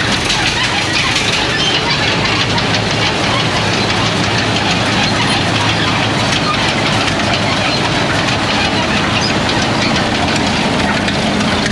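A 1926 Link-Belt K2 with a clam bucket and a Russell steam engine powers an Allis-Chalmers crusher, giving a loud, steady mechanical rumble and clatter that fills the whole stretch without pause.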